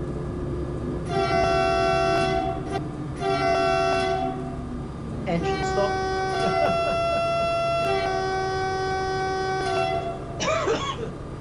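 A deep, multi-tone train horn from a Taurus locomotive in a train simulator game sounds in a series of long and short blasts, loud and close, over a low rumble.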